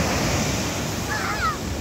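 Sea waves on the shore in Israel make a steady, loud rush of surf and wash, with a faint brief vocal sound partway through.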